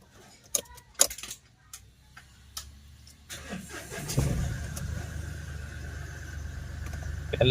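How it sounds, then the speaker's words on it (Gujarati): A Mahindra Bolero diesel engine starts after a fuel pump repair: a few clicks and clunks, then the engine catches around the midpoint and settles into a steady, close idle rumble that continues to the end. "હવે ગાડી સ્ટાર્ટ કરીને ચેક કરીશું."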